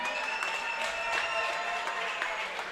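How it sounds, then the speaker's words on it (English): Applause from a crowd at a combat sports event before the first fight, an even wash of clapping at moderate level with a few sharper claps and faint tonal sounds beneath. "Give yourselves a round of applause,"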